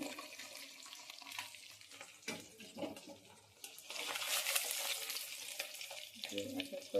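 Eggs frying in a pan, with a soft, steady sizzle that swells louder toward the end, plus some faint clinks and stirring sounds.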